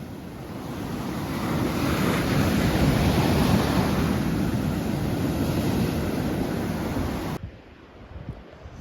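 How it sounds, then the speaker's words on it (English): Rough surf roars continuously with strong wind buffeting the microphone, loud and close, then the noise drops away abruptly near the end. "The sea was also very rough."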